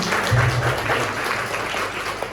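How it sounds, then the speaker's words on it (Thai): An audience at a university training session claps for a guest speaker in a continuous, fairly loud and even burst of applause with a brief low thump near the start and no talk. "ขอเสียงปรบมือกับพยากรด้วยค่ะ"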